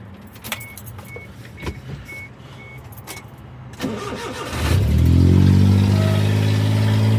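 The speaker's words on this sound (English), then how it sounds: "Do a cold start for you guys." A 1999 turbocharged Suzuki Carry cold-starts: faint keys and clicks first, then the starter cranks and the engine catches, settling into a loud, steady, rough idle that fills the rest of the clip.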